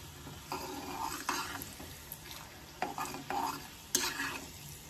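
Chana dal and urad dal fry in a pan for a gongura egg curry, with soft continuous sizzling broken by several scraping stirs of a utensil against the pan, close and fairly quiet.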